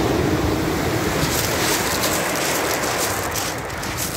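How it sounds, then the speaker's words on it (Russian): Continuous heavy surf of five-to-six-metre waves on the Sea of Okhotsk roars with a broad, constant hiss and rumble, loud and close, with no voices. "Метров 5-6 волна."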